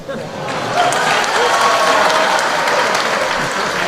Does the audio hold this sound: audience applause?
yes